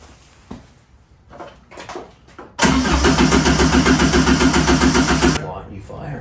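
A Subaru-powered Porsche 911 replica engine cranks over steadily and loudly for about three seconds with a rhythmic churning, preceded by faint background sounds and followed by a brief lower tail.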